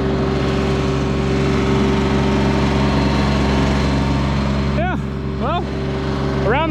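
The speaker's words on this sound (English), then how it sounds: "Cutting with a hydrostatic tractor, I mean, doing anything with a hydrostatic tractor is 10 times easier." A Kioti DK53 hydrostatic tractor runs steadily while cutting hay in a field, a loud constant engine drone close by, with a few brief rising chirps near the end.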